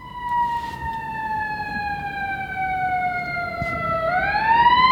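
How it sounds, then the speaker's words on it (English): A wailing siren holds a steady falling tone, then rises sharply near the end, loud and close with faint traffic rumble beneath. "Pause for siren."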